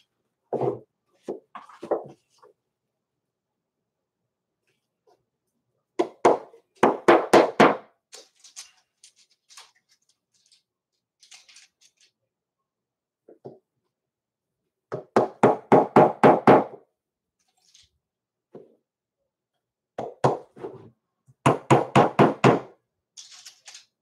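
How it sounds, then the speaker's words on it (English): Quick bursts of sharp hammer taps come in separate clusters, with short silent pauses between each run of strikes. "Let me put some tacks in it real quick. So you're going to hear some hammering."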